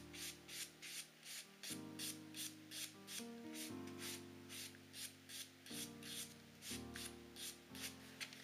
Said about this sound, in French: je vais prendre mon buffer et je vais venir passer sur mon ongle